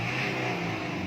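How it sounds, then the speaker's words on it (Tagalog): A car engine held at high RPM during a smoke-belching test, a steady, loud, continuous roar with no break. "Tingnan niyo po ito kung gano'n na po kalakas yung RPM niya"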